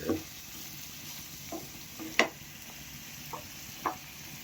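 Bamboo shoots stir-frying in a pan, a soft continuous sizzle broken by a few sharp utensil scrapes and knocks against the pan, with no talking.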